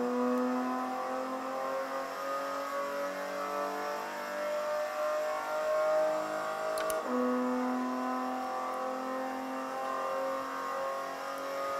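A VW Scirocco race car on the Hockenheimring accelerates hard from the inside of a corner, its engine climbing steadily in pitch, a brief shift around the middle, then pulling again, loud and close.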